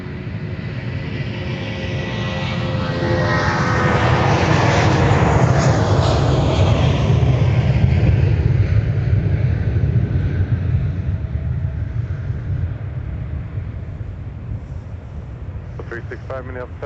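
An Airbus airliner takes off from Minneapolis–St. Paul airport, its engine roar swelling to a loud broad rumble and then slowly fading into the distance, with a voice talking over it.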